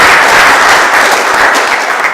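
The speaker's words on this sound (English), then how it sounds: "help me give them a round of applause for" Audience applause at a lecture, a dense wash of many hands clapping, loud and sustained for the whole stretch with no talk over it.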